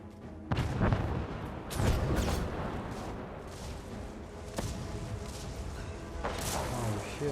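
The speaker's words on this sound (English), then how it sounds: "Oh shit, they have artillery as well." Artillery fire in the online game Guild Wars 2, several heavy booming blasts at irregular intervals over a rumbling battle background, with voices talking between the shots.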